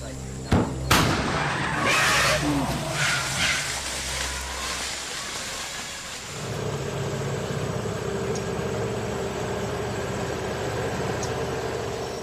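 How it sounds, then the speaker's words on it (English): Homemade cannons fired near a village to scare off pygmy elephants, a couple of sharp heavy blasts early on followed by rumbling echoes, then a long quieter stretch. "have ways to scare off the elephants with homemade cannons"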